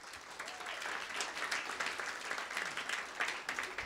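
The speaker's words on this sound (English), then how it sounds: "Let's give a big round of applause to Phil Evans." Live audience applause at a professional event in Dublin as a speaker takes the stage, a steady, fairly distant patter of many hands clapping without speech.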